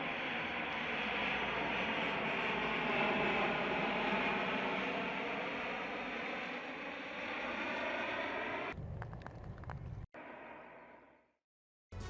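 An American military drone flying over the Black Sea gives a steady, loud engine drone that lasts about nine seconds, then gives way to rougher noise and fades out.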